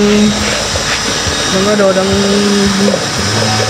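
A power mixer with a paddle whirs steadily, stirring powdered waterproofing compound for a reservoir, a loud continuous whine that shifts pitch slightly as it churns, with a voice talking over it.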